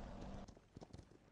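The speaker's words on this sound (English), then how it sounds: "Guys, wanna see my horse?" Horse mount in the video game Paladins, heard as brief clip-clop hoofbeats in a quick uneven rhythm, fairly close, following a steady low hum at the start.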